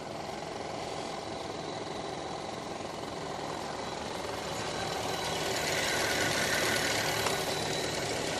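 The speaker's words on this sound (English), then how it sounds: "Those the fans making that noise." Cooling fans whir on a stripped Copart parts car, a Traverse with its front end torn down, in a steady broadband rush that grows slightly louder and brighter toward the end, with no talking.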